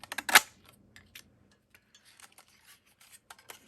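A single sharp paper punch snaps through card stock to cut a tag shape, one loud close click, then a few faint handling taps and rustles of paper.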